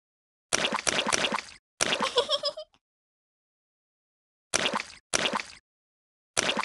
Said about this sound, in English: Splash in the muddy puddles. Look at all that splashing.